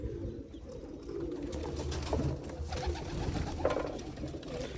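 Pigeons coo softly and repeatedly while feeding on scattered grain, a low murmuring chorus against faint background rustle, with no voices.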